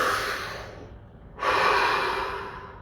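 A single deep breath drawn in close to the mic, a soft airy inhale, a brief pause, then a longer audible exhale, with no talk over it.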